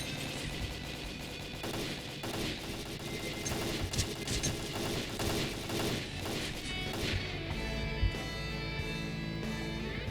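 Rapid gunfire from S.T.A.L.K.E.R.: Call of Pripyat, with dense bursts of automatic shots and scattered louder cracks running throughout, loud and continuous.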